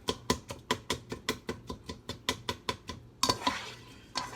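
Takis elote ingredients are stirred together in a bowl with a spoon, making a regular series of sharp clinking scrapes, about three per second, followed by a brief burst of crunchy rustling.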